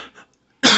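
A single loud, harsh cough from someone with a lingering cold bursts out abruptly after a brief quiet moment.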